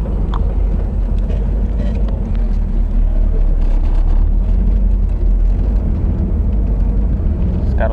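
Deep, steady V8 engine rumble from a 1999 Chevrolet Camaro with an LS1 engine, running continuously and loud, a low throaty drone with some wind buffeting, no speech over it.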